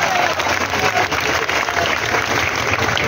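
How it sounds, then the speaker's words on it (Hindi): Loud, sustained audience applause fills the hall at a Hindi comedy poetry event, a dense steady clapping wash lasting throughout with faint crowd murmur beneath. "तालियां इस बात पर भी बजनी चाहिए।"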